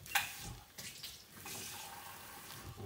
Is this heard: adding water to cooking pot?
yes